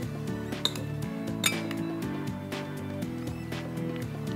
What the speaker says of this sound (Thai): เคล้าน้ำสลัดของเรานะครับ